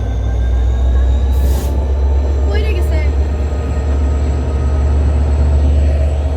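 The Rupashi Bangla Express, an intercity train, pulls out of Kashiani Junction with a steady, loud low rumble that carries throughout, plus a brief hiss and a short squeal partway through.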